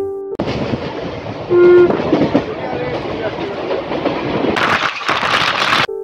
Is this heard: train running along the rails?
yes